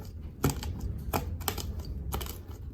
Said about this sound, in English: There is a popping sound like it's penetrating.